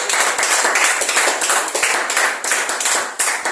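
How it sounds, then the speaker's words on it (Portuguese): A church congregation claps for the Lord in a loud, continuous burst of rhythmic palms that stays even and close throughout, with no voices standing out. "Dá uma salva de palmas para o Senhor"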